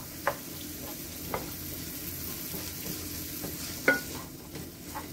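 Vegetables being stirred into sauce in a hot pan, with a low sizzle running underneath and several distinct scraping and clinking strokes of a utensil against the pan.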